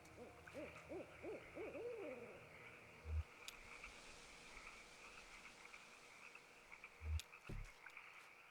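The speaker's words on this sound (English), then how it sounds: "I also feel like we should be able to find the owl. Because I can hear it." An owl hoots in soft, rounded, repeated calls over a quiet ambient background in the video game Kentucky Route Zero, with a couple of low thumps later on.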